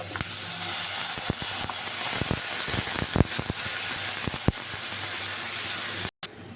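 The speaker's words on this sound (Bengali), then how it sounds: "এখন সব সবজিগুলো একে একে দিয়ে দিচ্ছি" Mixed vegetables dropped into a hot frying pan with oil and cumin, a loud steady close sizzle and hiss running throughout, broken by scattered clinks and taps before cutting out abruptly near the end.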